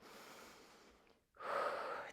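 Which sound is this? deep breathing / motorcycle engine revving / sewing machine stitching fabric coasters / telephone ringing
deep breathing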